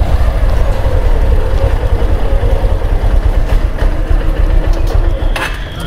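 A parked motorbike's engine idles close by, a loud steady low rumble that runs on without a break, with a brief clatter near the end.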